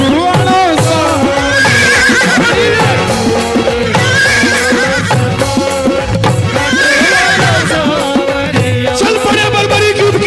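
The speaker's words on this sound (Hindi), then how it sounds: "घोड़े" Repeated loud horse neighs and whinnies ring out over dense music, with hoof clip-clop underneath, in a devotional Hindi telling of Barbarik riding off to war.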